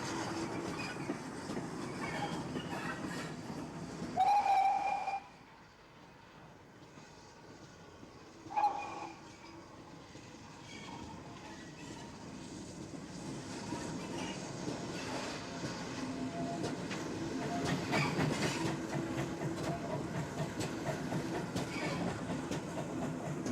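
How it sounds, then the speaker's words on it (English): Great Western Railway steam tank engine 1466 running on a preserved branch line at Didcot, a moderate rumble and wheel clatter, with a couple of brief whistle-like squeals early on. "A number of these little engines have been preserved, including 1466 seen at Didcot"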